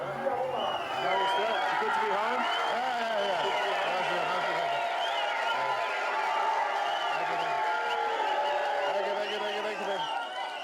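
A large crowd at an election rally in Tari, Papua New Guinea, fills the air with continuous shouting, whoops and excited cheering, with many voices layered densely and staying lively throughout.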